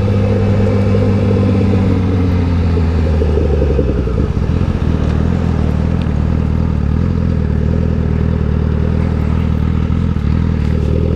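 A Honda CBR 1000RR Fireblade 2018 sportbike engine idles and warms up close by, giving a steady loud rumble whose pitch dips slightly around the middle and then holds even, with no talking.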